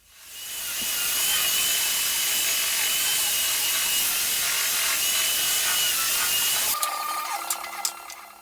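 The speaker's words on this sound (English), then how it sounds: "lots of time spent sanding this table so far" Continuous, loud, rasping sanding across a wooden resin dining table surface for several seconds, then stopping, followed by a few light knocks and scrapes.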